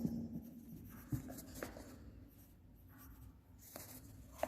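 A pen writes on paper with soft scratchy strokes and a few light taps, faint and close in a quiet room.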